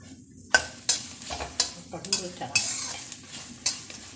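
Mustard seeds, cumin and grated coconut roasting in a pan, with a series of sharp spatula scrapes and knocks at an uneven pace over a low background sizzle, close up with no talk.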